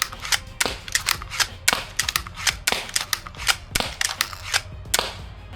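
A rapid series of sharp, snappy shots from a Steambow pump-action crossbow, about a dozen in quick succession with short mechanical clacks between them, loud and close with no voices.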